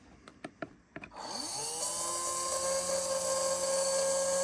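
A few short clicks, then a small vintage RC electric motor with worn bearings spins up and whines steadily at a high pitch, with a rough, slightly grinding edge.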